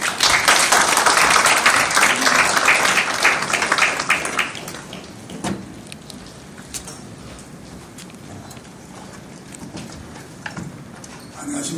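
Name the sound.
audience applause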